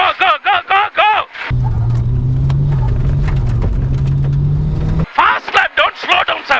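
An Evo 6 car's engine drones loudly and steadily while pushing hard on a fast lap. The drone cuts in between bursts of excited shouting that come just before and just after it.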